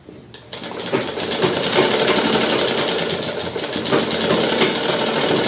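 An electric sewing machine stitches the gusset seam of a pair of underwear, giving a steady, close, rattling whir that runs almost without a break.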